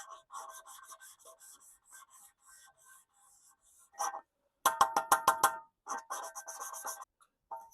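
A Mercedes M110 engine valve being lapped into its seat by hand gives short gritty rasping strokes, repeated in a steady back-and-forth rhythm with brief pauses, close and fairly quiet.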